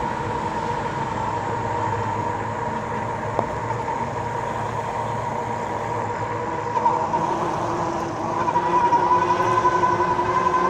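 Troxus LynxPlus e-bike with knobby tires rolling along, a steady droning tire and motor hum with a whining tone that rises slightly near the end, no talk.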